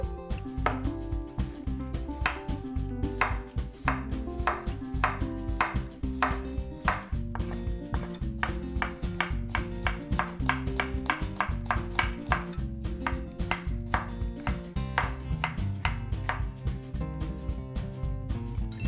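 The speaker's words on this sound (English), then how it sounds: "I always like to add cucumber at least. So we just need to julienne everything." A knife julienning cucumber on a cutting board, a fast, even run of crisp chopping taps repeating steadily and close throughout, with no talking.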